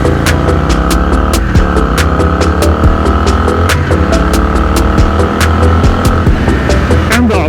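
A Yamaha Virago XV535 motorcycle engine downshifts on the road, a loud, throbbing V-twin drone whose pitch steps and slides, with sharp repeated clicks and ticks over the constant rumble.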